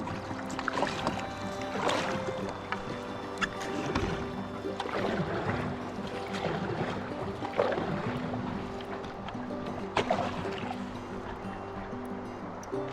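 A kayak paddles on the Buffalo River in Arkansas, with repeated splashes and strokes against rushing water and a boat hum, close and fairly loud throughout.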